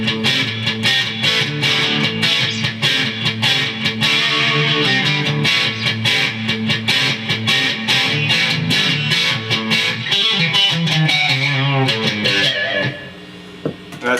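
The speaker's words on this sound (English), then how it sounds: "with a little bit of distortion or whatever, you get kind of that twangy" A distorted, twangy electric guitar plays a busy riff of rhythmic strummed chords, loud and up close, ending with a brief sustained note.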